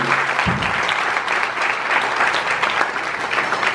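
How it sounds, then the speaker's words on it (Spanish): Congregation applause in a church service, a continuous crowd of hands clapping in a reverberant room, fairly loud and steady, with a low hum fading beneath at the start. "Denle un aplauso al Rey."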